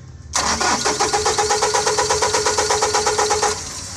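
A Tata Intra V30 BS6 mini truck with a fault cranks for about three seconds, the starter motor churning in a fast steady rhythm without the engine catching, loud and close before cutting off.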